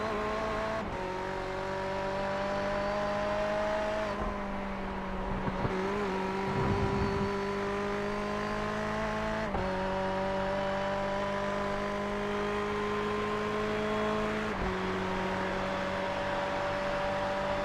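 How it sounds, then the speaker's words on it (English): Le Mans race cars at full throttle in the iRacing sim, several engines droning steadily together at high revs with pitch shifts as they change gear, loud and continuous with no talk. "We heard the beautiful sounds of these cars full throttle down the Mulsanne straight."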